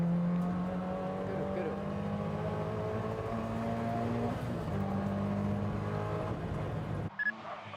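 Toyota GT86 engine revving hard on a mountain touge run, a sustained high-pitched drone that steps between gears and holds steady, cutting off abruptly near the end with brief sounds after.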